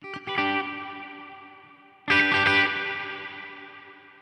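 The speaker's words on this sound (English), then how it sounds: "And you can hear that reverb just trails off. as you would expect." A clean, washy Quad Cortex preset with a sawtooth-modulated effect: two struck guitar chords, each blooming bright and then fading into a long shimmering reverb tail, with the second hit louder.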